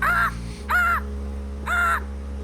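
A person imitates a crow, giving three drawn-out, nasal caws in a slow sequence over a steady low hum in the background.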